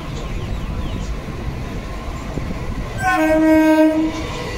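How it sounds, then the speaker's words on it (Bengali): Hazarduari Express train running in parallel with a local train near Kolkata, a loud sustained two-tone horn blast over steady rumbling rail noise, close by. "এই লোকাল ট্রেনের সাথে প্যারালাল রান হচ্ছে একটা আমাদের হাজারদুয়ারি এক্সপ্রেসের"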